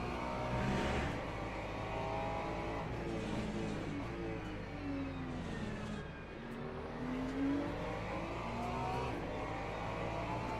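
Porsche race car engine in a racing game at the Algarve circuit, a steady loud drone with rising and falling pitch sweeps as it revs through corners, with no talk over it.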